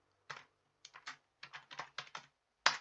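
Someone types code on a computer keyboard, quick close bursts of crisp key clacks in short clusters separated by brief pauses, ending with one louder strike, with no talking.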